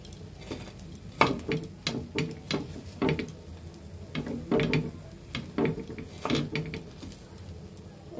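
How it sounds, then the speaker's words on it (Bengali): A metal spatula cuts a fried egg into pieces in a pan, making repeated sharp scraping taps in an uneven rhythm, close and moderately loud, with no talking. "এখন আমরা খুন্তির সাহায্যে এভাবে কেটে নেব।"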